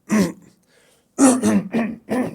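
A man clears his throat several times in a quiet room, one rough burst followed by a pause and then three or four quick, close, raspy throat clears in a row.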